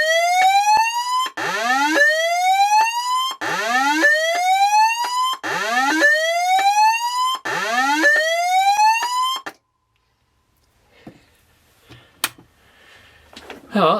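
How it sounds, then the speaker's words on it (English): A Pekon fire alarm evacuate sign powered at a higher voltage wails in five loud rising electronic sweeps with brief gaps, then cuts off to faint clicks and handling noise. "Yeah, different alarm at a higher voltage."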